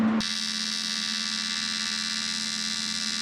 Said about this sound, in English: I'm gonna weld half of this and then see if I can get my camera set up